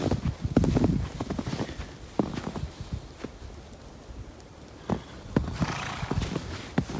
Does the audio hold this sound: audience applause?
no